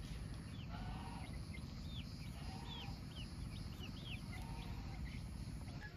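Chickens on a small farm where young hens roam among newly planted trees, giving repeated short calls every second or so over a steady, loud rushing background.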